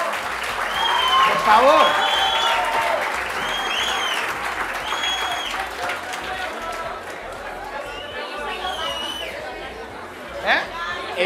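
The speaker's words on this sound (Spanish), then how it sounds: "¡Aplausos a los que llegaron primero!" Studio audience applauding in a busy show setting, sustained clapping mixed with chatter and voices throughout, with a brief louder burst near the end.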